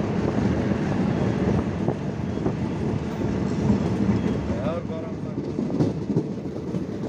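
A train pulls into Srinagar railway station in Kashmir, a continuous rumble with faint rail clatter and wind noise, and a voice talking over it.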